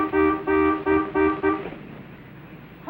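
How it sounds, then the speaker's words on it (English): A car horn honks in four or five short, loud, evenly spaced blasts, then falls silent into quiet background. "Honk louder"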